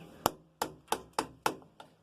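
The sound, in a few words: wood carving gouge chopping wood along the grain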